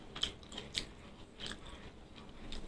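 Close, quiet bites and chewing of food, a handful of soft crunchy clicks spaced irregularly over a few seconds, with no voices.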